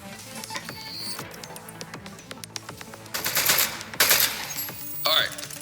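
Turret gunfire in the Portal game Aperture Desk Job comes as rapid, crackling bursts of shots, with a few scattered clicks first and then several louder volleys clustered toward the end.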